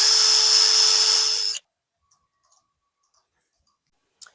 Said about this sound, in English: I'll screw this in here just like so